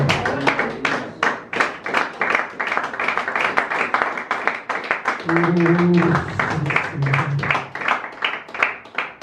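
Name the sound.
church congregation applauding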